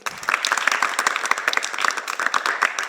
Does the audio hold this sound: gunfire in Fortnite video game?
no